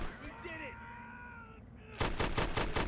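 Rapid gunfire in Army Men: Plastic Wars, a fast burst of repeated shots erupting loudly after a tonal whining sound and game background noise.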